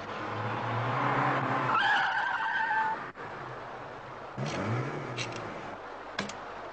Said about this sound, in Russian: Равшан, останови машину.